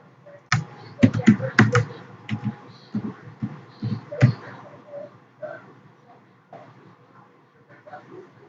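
Keys clatter on a computer keyboard in quick bursts, with a dense flurry early on and then sparser, lighter taps, close and alone with no talk.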